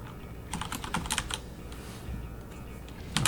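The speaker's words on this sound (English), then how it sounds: "Please disregard my mechanical keyboard that is way too bloody loud for" Bursts of rapid clacking keystrokes on a loud mechanical keyboard, close and crisp, in quick clusters separated by brief pauses, with a final flurry at the end.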